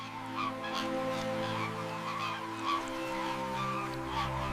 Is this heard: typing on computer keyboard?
no